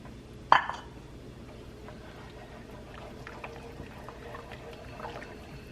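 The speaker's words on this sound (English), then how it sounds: "I just poured a little bit of water, that's about 1/4, just so that I can get all the tomato sauce that's in here out" A little water is poured into a pan to rinse out leftover tomato sauce, a short splash up front followed by faint liquid sloshing and gentle bubbling, quiet and close.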